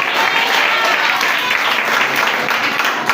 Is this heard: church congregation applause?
yes